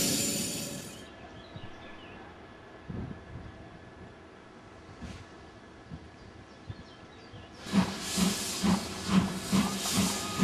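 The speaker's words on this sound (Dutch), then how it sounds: "De stoomtrein gaat richting het evenemententerrein" A steam train hisses near a rail yard during a railway event, with a sharp broadband burst at the start, quieter rumbling in between, then a loud rhythmic hissing and chuffing toward the end.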